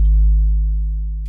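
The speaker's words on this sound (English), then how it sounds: "just a sine wave with a really long release on it" A deep, pure sine wave synth bass tone with a long release sounds alone and sustained, slowly fading as it holds, with a brief soft click at the very end.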